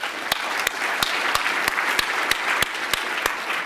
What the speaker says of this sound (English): give all three of those and all the poster presenters a round of applause